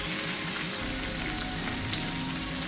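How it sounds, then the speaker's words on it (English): Tourist's delight, a canned meat, frying in a pan with a steady close crackling sizzle and no talking. "So we'll let that fry up a little while longer"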